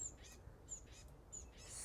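Small bird in a Florida butterfly garden giving faint, repeated high chirps at intervals, distant and quiet against soft outdoor background noise.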